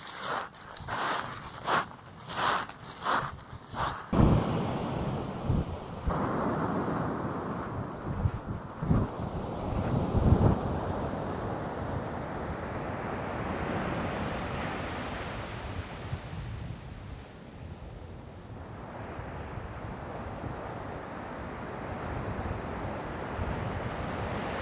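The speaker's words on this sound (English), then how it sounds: "Almost at the beach." Surf breaking and wind buffeting near a beach by a river mouth, a steady wash of waves with gusty microphone rumble, preceded by a few sharp handling clicks at the start.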